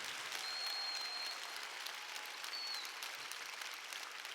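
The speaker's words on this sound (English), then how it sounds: "Let's give them a round of applause." Sustained audience applause fills a convention hall for several seconds, steady and dense with a few faint whistles on top, no voices standing out.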